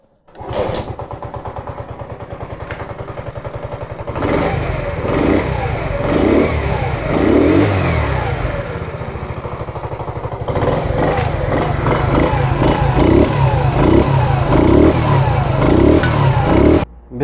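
A freshly assembled 2012 Honda CD70 motorcycle's engine starts and runs loud and close, a steady idling chug that swells with throttle blips, without any talk.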